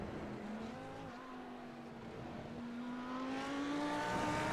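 Several 5.2 litre V10 race cars in an endurance racing video game at Spa-Francorchamps rev and drop their revs around the circuit, making a continuous engine drone with rising and falling pitch, steady and moderately loud with no talking.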